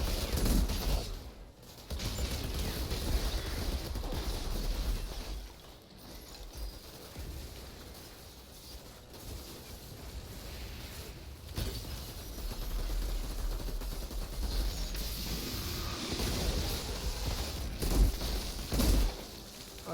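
Rapid gunfire from the shooter game Outriders runs almost continuously, with dense bursts and explosive hits layered over a constant loud game soundscape and no pauses.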